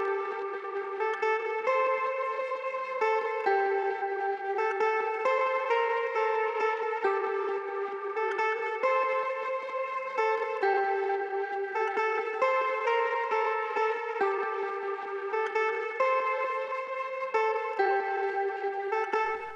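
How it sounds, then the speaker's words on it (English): An electric guitar played through a pedal board of effects repeats a slow, catchy few-note melody. Heavy echo, chorus and reverb wash the notes into a continuous, shimmering, mystical sound that stays steady and fairly loud throughout. "I ran my guitar through my pedal board to get this mystical effect."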